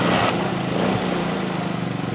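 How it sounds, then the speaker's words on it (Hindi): A 1987 Honda CD70 motorbike with a repaired carburetor petrol overflow fault runs steadily after starting, its small single-cylinder engine giving a close, even, buzzy putter with no pauses. "अब हम मोटर बाइक को स्टार्ट भी कर लेते हैं और स्टार्ट करके चेक भी कर लेते हैं।"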